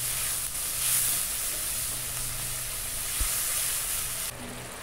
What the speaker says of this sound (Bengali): মশলা খুব ভালো করে কষিয়ে নেব